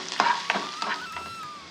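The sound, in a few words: onion sizzling in hot coconut oil while stirred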